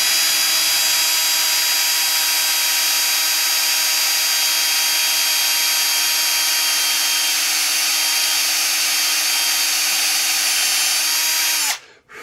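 Power drill boring into a VW Bug engine, a loud, sustained high-pitched motor whine held steady at close range before it winds down and cuts off at the end.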